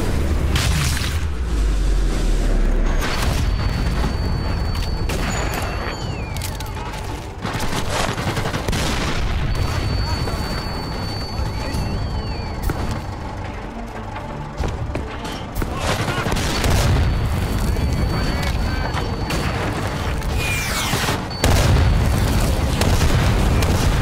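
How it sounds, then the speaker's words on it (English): Heavy artillery booms and explosions in the Sniper Elite VR video game as captured guns destroy a tank, repeated loud blasts over rumbling wartime background noise. "Captured artillery destroyed the tank and bought us another chance."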